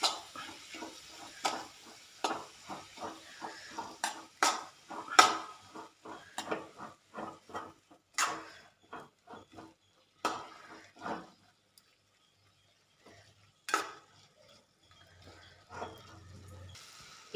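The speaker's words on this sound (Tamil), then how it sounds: "இப்போ நம்ம முட்டைக்கோஸ் உள்ள சேர்த்துக்கலாம். இப்போ நல்லா வதக்கி விட்டுக்கலாம்." Cabbage for poriyal is stirred and sautéed in a pan, with a rapid run of spatula scrapes and clinks over a faint sizzle, then sparser strokes and quiet pauses.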